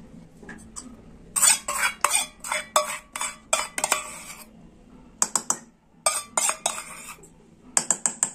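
A spoon scrapes and clinks against a bowl as sour yogurt beaten with salt and sugar is added and mixed into chicken for Chicken Baghdadi, a brisk, close, rhythmic run of taps and stirring alone.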